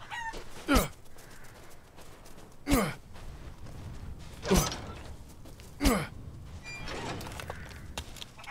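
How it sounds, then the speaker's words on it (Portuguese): A rooster in the video game Resident Evil Village crows and squawks four times at roughly two-second intervals, loud and close over a quiet game background. "eu não sei porque eu tô correndo atrás desse galo"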